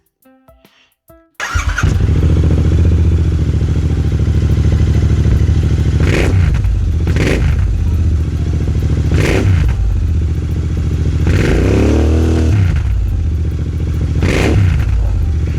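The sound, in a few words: motorcycle engine with aftermarket exhaust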